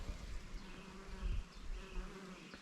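Steady insect buzzing from several honeybees hovering close around buckwheat flowers, rising and falling slightly in loudness, with no voices.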